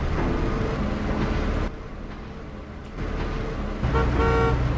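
A bus drives along in a bridge-building video game, its engine drone steady and loud, with honking toots breaking in near the end.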